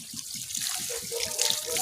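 Water pours steadily from a tap into a basin during washing, a continuous bright splashing with a soft rhythmic low pulsing underneath, close by and without talk.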